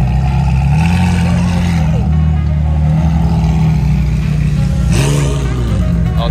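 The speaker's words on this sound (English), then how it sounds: "We got some cars rolling in." Sports cars, including McLarens and a Porsche GT3 RS, roll into a car rally with loud engine revs rising and falling, steady nearby exhaust drone and a sharp rev burst near the end, while people talk over it.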